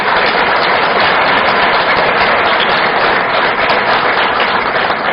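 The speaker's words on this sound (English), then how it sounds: "Let's give all of these star students and star teachers a big round of applause." An audience gives students and teachers at a STAR Students event a sustained round of applause, a dense, muffled roar of many hands clapping continuously at even loudness from start to finish.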